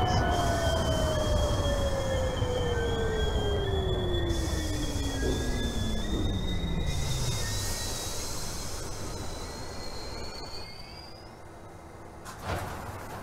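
A simulated R68A New York subway train on the Sea Beach Express runs on rails in a rail simulator, with a steady rumble, a falling motor whine and shrill wheel squeal. A brief bump is heard near the end.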